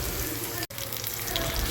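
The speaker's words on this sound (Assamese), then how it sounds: "এইখিনি ভালকৈ ৰঙচুৱা হ'লৈকে ভাজি লওঁ।" Garlic cloves and panch phoron spices frying in hot oil in a pan: a continuous, close, bright sizzle that drops out for an instant and then resumes just as steadily.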